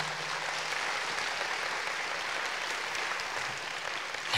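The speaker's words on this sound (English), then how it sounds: "So can I invite you all to give our speakers a round of applause," Steady audience applause from a seminar crowd, dense even clapping with a few cheers, sustained for several seconds with no talking.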